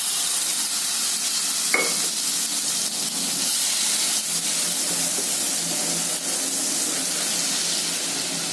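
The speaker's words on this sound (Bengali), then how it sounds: "এবার আমি এই পেঁয়াজ রসুন বাটাটা এতে দিয়ে দেবো।" Onion-garlic paste hits a hot pan for golda prawn malai curry and sizzles steadily, a close, hissy frying crackle that runs on evenly, with a brief clink near the start.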